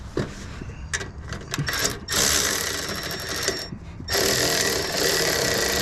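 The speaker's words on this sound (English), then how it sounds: "So now I'm going to clamp that down." A tool tightens an exhaust clamp on an Audi A3, giving close, rapid ratcheting clicks in short bursts broken by brief pauses, followed by longer stretches of steady mechanical rasping.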